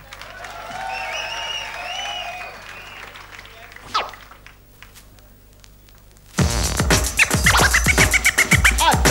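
A crowd at the 1992 DMC World DJ Championships final bursts into loud, dense applause and cheering for a DJ, arriving suddenly near the end after a quieter stretch of voices over a low hum.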